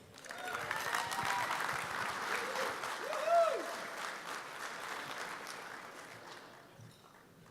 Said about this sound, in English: A big round of applause for Mr. Mike Brighton.